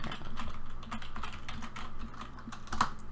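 Typing on a computer keyboard while entering a file name, heard as a quick run of close, crisp key clicks in uneven bursts, ending with a sharper, louder keystroke.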